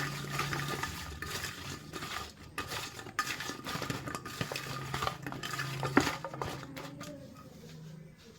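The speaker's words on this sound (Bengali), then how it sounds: "হলুদ আর লবণটা ভালো করে মাখিয়ে নিচ্ছি।" Close, steady mixing of bitter gourd with turmeric and salt in a bowl: soft squelching and rustling with occasional light clinks against the dish. One sharper knock stands out near the end.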